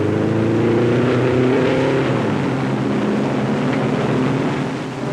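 Novi race car at the 1957 Indianapolis 500 pulling away from the pits after refueling and three new tires, a loud sustained engine roar with rising harmonic pitch that fades slightly at the end.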